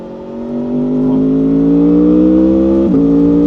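A 2025 Aprilia Tuono V4 Factory motorcycle engine roars loud and close under acceleration, a rising sustained growl that climbs steadily in pitch with a brief dip near the end, no talk over it.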